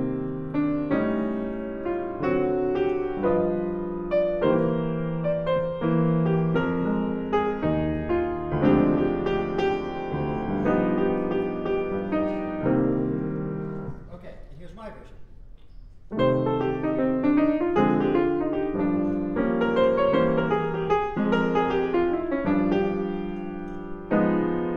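Live jazz performance of the opening section of a tune: continuous melodic instrumental playing with chords and runs, dipping briefly quieter midway before resuming at full level, with no talking.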